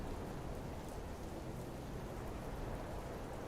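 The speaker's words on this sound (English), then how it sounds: "you can hear the rain." Steady, dense rainfall hisses evenly throughout, a constant broadband wash with no breaks and no voices over it.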